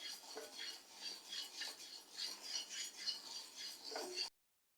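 Moong dal roasts in a pan as a metal spoon stirs it, quick rattling scrapes and light clinks repeating in an even rhythm, close and crisp, stopping abruptly at the end.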